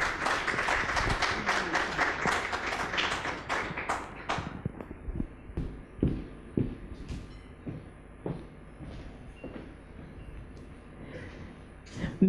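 Audience applause for a guest at a business forum on women in companies, loud and dense at the start, then thinning into scattered claps and thumps as the clapping dies away.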